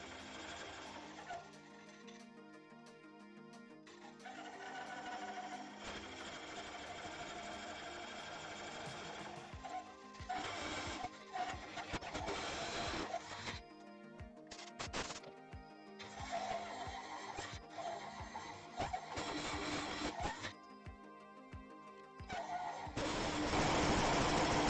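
A Record Power wood lathe cores out a walnut bowl, its steady motor whir running throughout with a scraping, grinding cut that swells and breaks off repeatedly, growing louder toward the end.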